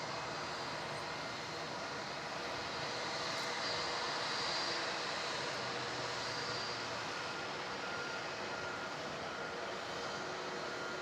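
An aircraft arriving at Melbourne Airport from Brisbane gives a steady, broad engine roar that holds at a constant level throughout, heard from a distance.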